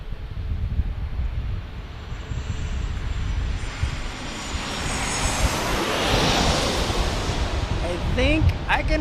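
An Osprey tiltrotor takes off near San Diego airport on a foggy, hazy day, its engines a broad distant roar that swells slowly, joined by wind and faint voices.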